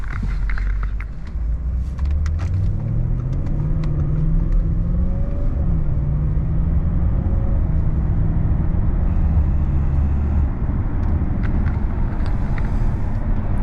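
An Audi A8 with a repaired gearbox accelerates from inside the cabin, its engine drone climbing steadily through several gear changes beneath a constant road rumble.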